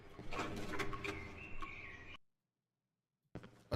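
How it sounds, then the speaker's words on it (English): Birds chirp and coo in the ambient soundscape of the horror video game Cry of Fear, a busy layer for about two seconds before dropping to near silence and briefly returning. "But there's something about hearing the birds that feels so nice."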